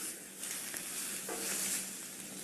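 Meat sears on a hot grill with a soft, steady sizzle that hisses evenly throughout. A faint clink sounds partway through, and no one talks.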